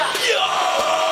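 A man yelling a loud, sustained battle cry during a gladiator-themed pre-wedding photoshoot, a single raw shout heard close up.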